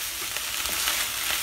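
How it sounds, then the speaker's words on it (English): Bacon and onion fry in a pan over medium-high heat, giving a steady, close sizzle with faint crackles throughout and no voices. "just went ahead and added my bacon and onion to a pan over medium-high heat"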